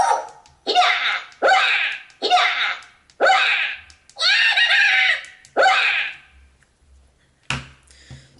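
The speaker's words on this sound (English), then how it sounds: "And on the pinky you will get Java screams." Star Wars Jawa screams fired from a sound glove: a rapid series of about seven shrill, chattering alien shrieks in quick bursts, loud and close, followed by a brief pause and one final short squeal.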